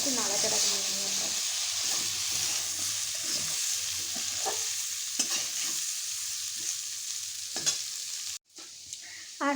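Spices frying with vegetables in a pan while being stirred make a continuous hissing sizzle with scattered scraping strokes, ending in a brief hush and a final clunk.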